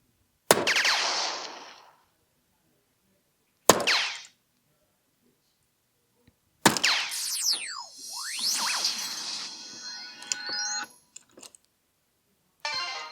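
Winmau 20g soft tip darts striking an electronic dartboard: three sharp separate impacts spaced a few seconds apart, each followed by the board's loud electronic scoring sounds and chiming effects, with silence between throws.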